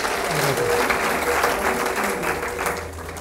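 Audience applause welcoming an engineer to the stage at an Aceros del Perú metallurgy seminar, a continuous wash of many hands clapping at steady volume, with a voice faintly audible beneath it.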